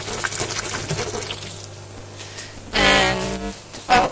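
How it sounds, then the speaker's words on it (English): Hot tap water gushes and splashes onto a kilo of dry rice in a pot, a loud broadband rush of around a second, with a second short pour following soon after. "And that's the hot water from the tap."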